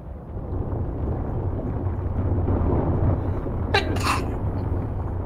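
A single person's sneeze bursts out briefly near the end over steady low wind-like rumble and background noise.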